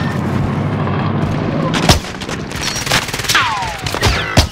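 Gunfire and explosive booms from a Call of Duty match ring out across a dense battle bed, with a sharp loud crack near the two-second mark standing out as a sniper shot amid steady background firing and a descending whistle later on.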